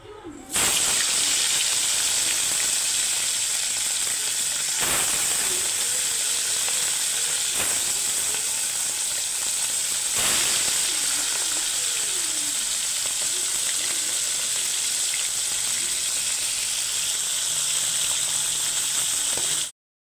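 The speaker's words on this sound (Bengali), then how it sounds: "আর এই যে তেলটা গরম হচ্ছে, এবারে আস্তে আস্তে দিয়ে দেবো মাছগুলো" Pomfret fish seasoned with salt and turmeric fry in hot oil, giving a steady, loud close sizzle with a few brief crackling bursts throughout.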